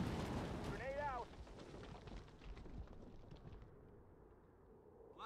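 Grenade explosion in the Halo Wars strategy game, a loud, heavy rumbling blast that decays into a long low battlefield roar, with a brief spoken unit line near the start.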